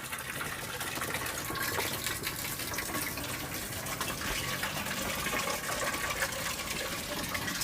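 Boiled chicken bones are strained and left to drain, giving a steady wash of running, splashing water that continues evenly for several seconds with no voices.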